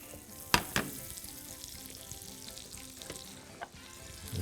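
Butter and celery fry in heated oil with a quiet, steady sizzle, punctuated by a couple of sharp clinks and crackles early on; faint overall, no talking.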